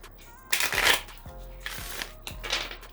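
A Witches of Legend deck being riffle-shuffled three times, each burst a quick crisp flutter of snapping cards up close.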